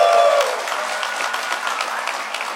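Audience clapping in a hall at a DEF CON hacking conference, a moderate, even patter of many hands that is strongest at the start and then settles into a steady, thinner wash.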